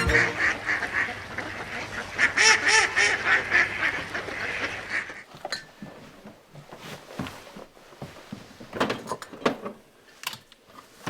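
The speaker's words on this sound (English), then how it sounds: "spectacular concentrations of migrating ducks and geese in the fall" Dense honking and quacking of many migrating ducks and geese in fall in South Dakota at first, then scattered calls over a quieter, breezy background.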